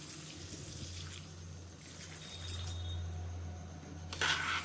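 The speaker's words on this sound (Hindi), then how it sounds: "अब ग्रेवी के लिए इसमें थोड़ा सा पानी डाल देंगे।" About half a glass of water poured into a simmering drumstick (sahjan) vegetable curry to make gravy, a soft, quiet trickle and splash with a brief louder slosh near the end.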